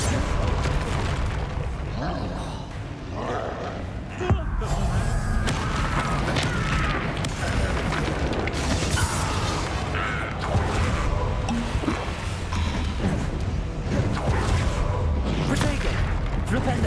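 Spell explosions in the wizarding game Hogwarts Legacy, repeated booming blasts and crashes amid battle effects, with someone talking and shouting throughout.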